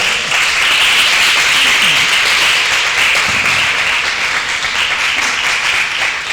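A church congregation breaks into loud, sustained applause, dense clapping from many hands filling the room steadily for several seconds without letup.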